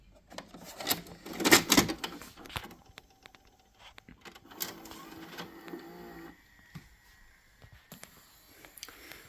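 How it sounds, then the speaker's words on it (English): A VCR owned for over 25 years takes in a VHS tape and starts up: a burst of close mechanical clunks and whirring, then quieter motor hum with scattered clicks as the machine engages. "this is the sound of what it sounds like when you put in a tape"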